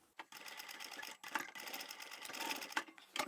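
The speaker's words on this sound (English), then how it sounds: "I'm going to triple stitch this section" A sewing machine triple stitches a large zippered laptop handbag of upholstery and vinyl sample swatches, running in steady close bursts with a few brief stops and restarts.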